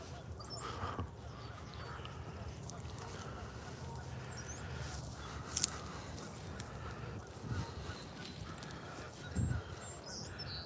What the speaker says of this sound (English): A couple geese, Canadian geese, coming in for a landing